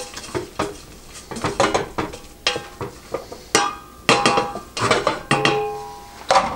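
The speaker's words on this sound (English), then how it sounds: "And next, stirring it up." A metal spoon scrapes and clanks against a saucepan while Kraft Stove Top stuffing is stirred, making repeated close, sharp knocks and clatters in irregular bursts.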